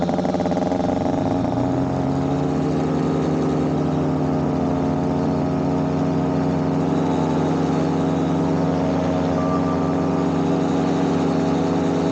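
A paramotor engine idles on the ground, giving a loud, steady, close mechanical drone with an even tone that holds for the whole stretch without revving.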